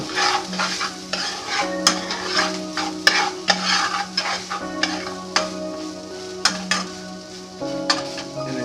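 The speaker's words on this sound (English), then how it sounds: "once you start to hear that sizzle" Rice and vegetables sizzle in a pan during stir-frying, a continuous close crackle broken by regular scrapes and clanks of a utensil stirring against the pan.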